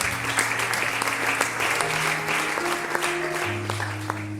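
A church congregation in Lubumbashi bursts into sustained, loud applause to acclaim the Lord, steady clapping over soft held keyboard tones throughout.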